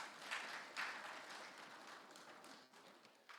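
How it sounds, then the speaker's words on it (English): Faint audience applause at a human rights conference session, a soft, steady patter of hands with a couple of stronger bursts, heard from a distance and fading slightly toward the end. "A round of applause, and until he gets to his seat, we can release you."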